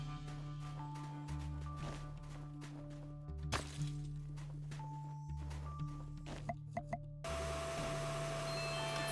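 A vacuum tool in a video game drones in a continuous tonal hum, with game thuds, clicks and shifting effect tones layered over it.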